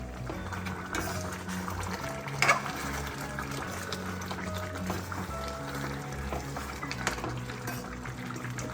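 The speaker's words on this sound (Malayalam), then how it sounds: "നന്നായി തിളച്ച് വന്നിട്ടുണ്ട്" A pot of chicken curry with mango bubbles steadily nearby, a continuous soft boiling burble with a brief louder stir or splash partway through; no speech.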